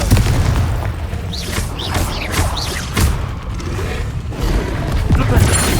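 Booming magical blasts from a Confringo spell in Hogwarts Legacy, several heavy thuds and bursts in a busy duel with shouted spell names over them.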